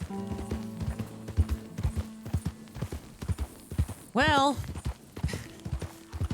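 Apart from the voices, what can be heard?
horse galloping in a video game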